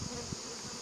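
Honey bees buzz on a brood frame lifted from a hive in an apiary: a steady, close, continuous hum with no other sound over it.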